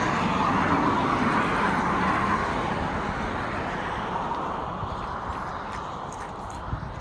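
Cars on the road beside Bell Park in Sudbury, Ontario, make a steady broad rumble of traffic, a close vehicle roar that slowly fades as it passes, with no voices.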